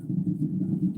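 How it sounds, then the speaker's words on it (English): An unexplained noise from a kitchen sink, a low pulsing hum or gurgling drone with a rapid wavering rhythm, fairly loud and close, lasting a brief second on its own. "That sound has been happening and it's from my kitchen sink"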